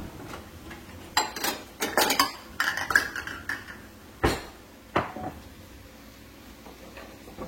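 A serving of egg fry is spooned from a pan into a bowl, with a run of sharp metal clinks and scrapes, then a few spaced knocks and a quieter stretch.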